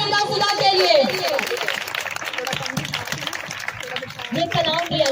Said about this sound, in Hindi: जोरदार तालियां बजाएंगे जिंदा खुदा के लिए।